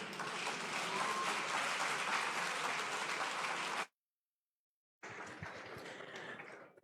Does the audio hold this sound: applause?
yes